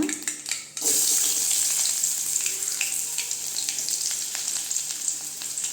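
Onions frying in oil for Tamil-style beans poriyal, a steady broadband sizzle that erupts loudly after a brief quieter start and holds continuously, with faint clinks of stirring scattered through, no voices.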